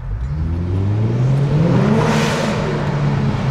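A highly modified Kia Stinger GT2 engine revs loudly and steadily inside a parking garage, its mid-range roar building and echoing off the concrete without letup.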